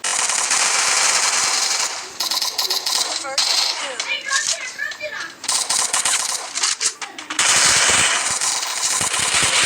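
Rapid automatic gunfire bursts from the Free Fire battle-royale game, loud and dense, cutting in and out between short lulls, with scattered sharp shots and clinking over a steady game backdrop.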